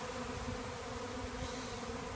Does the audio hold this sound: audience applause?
no